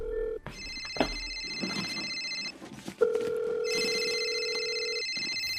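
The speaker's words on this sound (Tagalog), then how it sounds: "Bakit cellphone mo yung nagre-ring tuwing tinatawagan ko yung number na nagpapadala sa akin ng text" A cellphone rings in a Tagalog radio drama, with repeated electronic ring tones in two bursts separated by a brief gap and a sharp click, loud and close with no voices over it.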